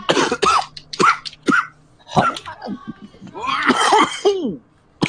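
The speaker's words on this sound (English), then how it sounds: "I've got an actual cough." Several harsh, abrupt coughs come in bursts, some doubled, with throat-clearing sounds and a few short vocal noises between them, close to the microphone.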